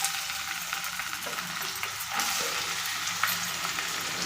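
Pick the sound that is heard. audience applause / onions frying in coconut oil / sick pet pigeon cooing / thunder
onions frying in coconut oil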